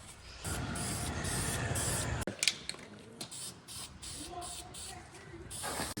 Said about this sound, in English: We're gonna scuff up these valve covers real quick. Spray them red.